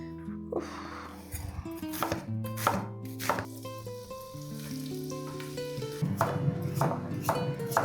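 A knife chops green beans on a board in several sharp, irregular strikes, with steady music playing underneath.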